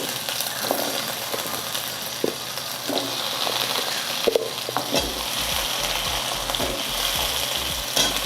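Yam and potato pieces fry together in a pan, a steady close sizzle with scattered crackles and occasional stirring scrapes, no talking.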